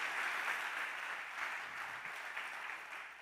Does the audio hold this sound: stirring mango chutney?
no